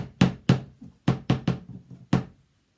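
A tight jar lid is banged on a surface to loosen it: about seven or eight sharp, close knocks in quick, uneven succession, some louder and some softer, then quiet.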